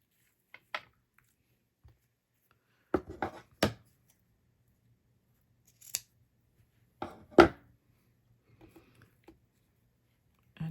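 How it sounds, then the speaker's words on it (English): Scissors snip the ends of a ribbon tied on an acrylic ornament, a handful of crisp close cuts spaced apart with quiet between them. "Then just knot it and trim the ends"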